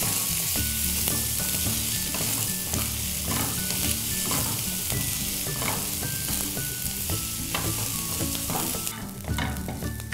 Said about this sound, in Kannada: ಇದನ್ನೆಲ್ಲ ಚೆನ್ನಾಗಿ ಹುರ್ಕೊಳ್ಳಿ. ಹಸಿ ವಾಸನೆ ಹೋಗೋವರೆಗೂ ಹುರ್ಕೊಳ್ಳಿ.